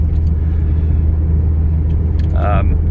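A 2011 Shelby GT500 convertible with 750+ horsepower idles with a deep, steady low rumble throughout, with a brief higher whine near the end.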